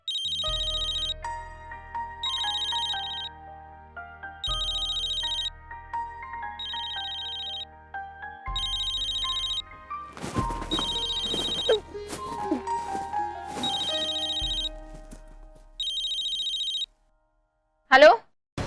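A telephone rings over and over at night, its electronic bell repeating in regular bursts with short gaps, loud and close, with a stretch of voices and clatter partway through.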